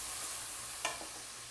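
Onion and tomato frying in a pan for aloo palak, stirred once or twice with a brief scrape over a soft, steady sizzle, heard alone at low volume.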